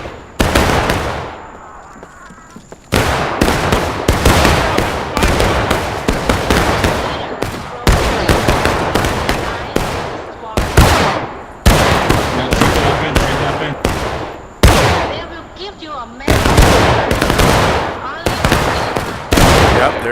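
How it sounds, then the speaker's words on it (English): Gunfire in a video game battle, with players shooting through a fence: loud, close bursts of rapid shots, with a voice talking between the bursts. "they're just shooting through the fence"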